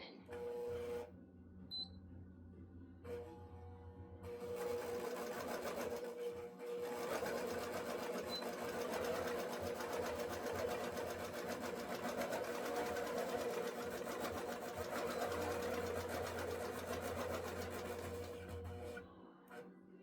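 A quilting machine bastes a loaded quilt with long, large stitches, its motor and needle producing a steady, rapid mechanical chatter that runs close and continuous for most of the stretch after a few brief starts.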